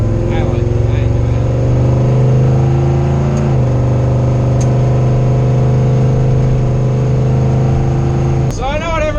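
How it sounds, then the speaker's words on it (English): A restored 1978 Ford F-150 pickup with a 400 engine idles roughly up close. Its loud, steady low rumble carries strong even harmonics, with a brief disturbance near the end. "The truck is a bit rough at idle."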